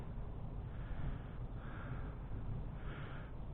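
Faint, distant caws from crows, two brief calls, over a steady low rumble of wind or background noise.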